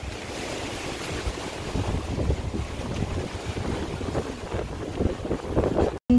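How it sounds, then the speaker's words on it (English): Strong wind roars outdoors and buffets the microphone in a dense, continuous rush with gusty surges, ending in a brief clatter as a box blows over. "Oh no, so windy."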